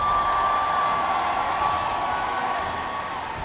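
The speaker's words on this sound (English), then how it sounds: "may we please a warm round of applause for Daewoo" Dense, steady applause from a large crowd at the M5 World Championship esports event, sustained throughout with a faint tonal hum running underneath.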